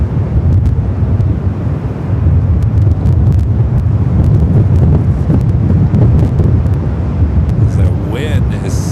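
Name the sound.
gusty wind blowing at Los Angeles airport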